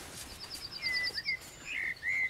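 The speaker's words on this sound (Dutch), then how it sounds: "Een merel, hè?" Blackbird song outdoors in a heathland breeding area, short melodious phrases and chirps, fairly faint and distant, over a quiet background with no talking.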